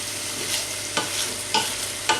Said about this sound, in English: Next, the leeks. And again, a good old stir.